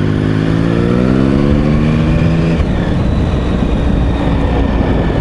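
A Triumph Sprint 1050 ABS motorcycle out on the road, its engine note rising steadily through the gears before settling into a loud, steady drone with heavy wind rush.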